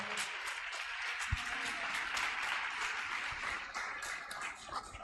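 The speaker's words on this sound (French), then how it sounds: "Acclame bien le Seigneur." A church congregation at a French-language worship service applauding and clapping, a dense sustained wash of many hands, with occasional louder claps and faint voices mixed in throughout.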